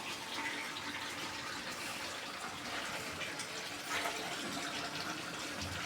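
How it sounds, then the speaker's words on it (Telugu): Water is poured into a pot of chicken curry served with ragi sangati, making a steady, close splashing rush that keeps going for several seconds with no pause. "కొంచెం వాటర్ పోసుకోండి."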